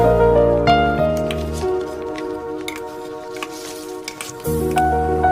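Thick ground murukku snack batter is poured into a pan with a soft, wet squishing and dripping, heard under a loud music track that pauses midway.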